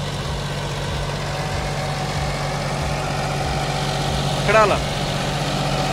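A diesel engine idles close by with a steady low, evenly pulsing throb, while someone speaks briefly over it near the end.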